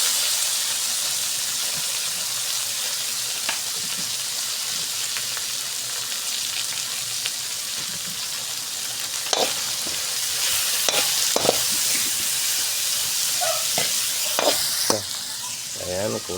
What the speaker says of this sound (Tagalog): Lagyan na rin natin yung carrots.